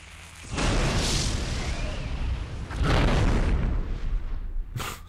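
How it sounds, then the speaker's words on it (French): Heavy booming blasts from demonic cannons in Warhammer: Mark of Chaos, two big roaring explosions with rumbling noise filling the battle, then a sharp short crack near the end, no talk. "Et là, les canons vont les détruire. Les canons démoniaques."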